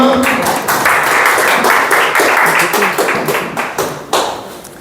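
Applause from a book-concert audience welcoming a young presenter, a dense burst of hand clapping that stays fairly loud and steady before thinning into a few scattered claps at the end.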